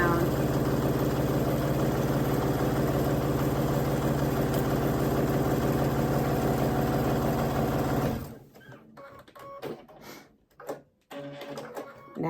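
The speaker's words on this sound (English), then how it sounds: "And now I'm going to sew 1/4 of an inch" Sewing machine running steadily as it stitches a quarter-inch seam on an hourglass quilt block, loud and continuous for about eight seconds, then stopping, followed by faint handling clicks and a voice speaking.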